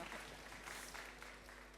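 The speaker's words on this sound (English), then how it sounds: "give them a big round of applause." An audience applauds two guests from LEGO coming up to speak, a brief, fairly soft and even patter of clapping from a room of people.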